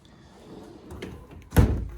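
A drawer in a Snap-on tool chest holding electrical testers slides open with a soft scrape, then ends in one loud, close, solid knock as it stops.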